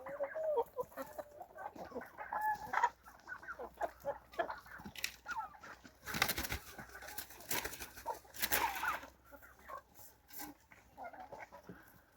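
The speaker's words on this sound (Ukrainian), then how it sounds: "Вони хоч і всі кури, але між собою все одно вони діляться і б'ються." Backyard hens cluck and squabble in a rapid, uneven chorus, with sharp bursts of scuffling and flapping as the birds fight among themselves at close range, no talk over them.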